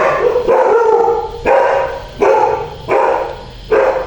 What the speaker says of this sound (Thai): เวลาเขาได้ยินเสียงรถเสียงอะไรนี่เขาจะเห่าค่ะ